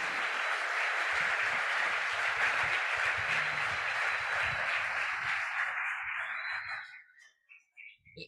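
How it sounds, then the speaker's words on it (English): A sustained round of audience applause, broad and even clapping from a crowd, holds for several seconds and then fades out into a few scattered final claps and near silence. "they deserve one more round of applause"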